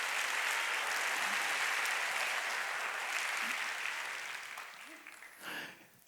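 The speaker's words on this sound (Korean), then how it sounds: "박수 치려면 세게 치고" A church congregation at a Wednesday worship service claps loudly and steadily, a dense sustained wash of applause that fades toward the end as a voice comes in.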